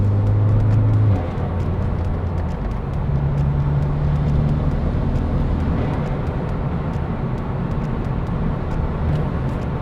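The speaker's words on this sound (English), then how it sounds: "So this is how the car sounds with the valves closed during acceleration." A BMW G20 330e's B48B20A engine drones steadily as it accelerates with its tuned exhaust valves closed, a low, muffled exhaust rumble with no sharp pops, heard from inside the vehicle.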